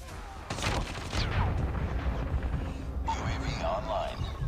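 Rapid bursts of gunfire in the mobile shooter game Call of Duty Mobile crackle at moderate loudness while a player talks over the shots.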